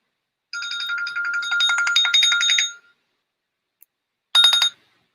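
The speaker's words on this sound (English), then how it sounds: "I'll probably cancel this because I'm getting a phone call." An incoming call sets a phone ringing loudly and close: one long electronic ringtone phrase of about two seconds, a pause, then the start of a second ring.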